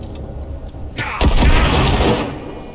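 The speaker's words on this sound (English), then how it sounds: "Throw a grenade." A thrown grenade in Cyberpunk 2077 goes off with a single loud, deep boom that swells and then fades over a second or so, after quieter game noise.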